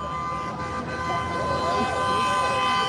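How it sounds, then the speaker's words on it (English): Car horns honk at a street protest in South East Los Angeles, a sustained drone of tones over traffic noise, loud and continuous across the moment. "Lots of honking, horn honking"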